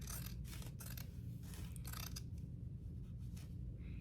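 Scissors snip through a denim strip cut from old jeans, several crisp separate cuts in quick succession early on, then quieter rustling, close and faint.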